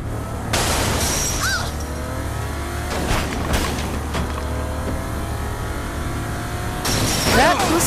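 A car driving and revving in the video game Saints Row IV, a steady engine drone with swelling bursts of acceleration and passing whooshes, mixed with game effects and voices talking over it.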